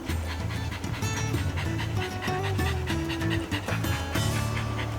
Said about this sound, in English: If you can hear Riley panting in the background